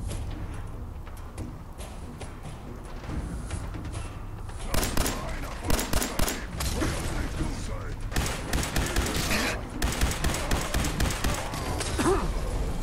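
Explosion and gunfire in Fallout 4, a loud burst at about five seconds followed by rapid, irregular shots and blasts that run to the end over game background noise.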